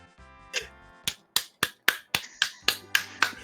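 A run of sharp, evenly spaced claps, about nine in quick succession, loud and close, with a low hum underneath.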